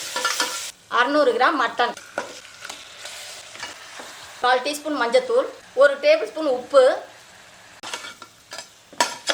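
Ginger garlic paste and mutton sautéing in oil in a pan for seeraga samba mutton biryani, with crackling sizzle and stirring scrapes running steadily under a voice speaking throughout.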